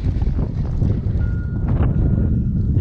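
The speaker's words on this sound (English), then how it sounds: "the wind is just rushing around that corner right now" Wind rushes around the corner of an alley beside a parked semi truck, a steady low roaring buffet against the microphone, loud and close, with a faint brief tone midway.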